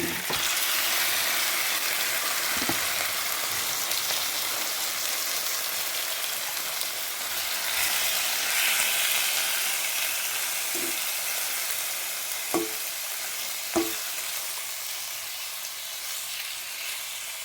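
Chicken pieces frying in a pan for Filipino coconut chicken curry, a loud continuous sizzle with a few sharp pops and clinks of utensils, close and steady throughout with no talking.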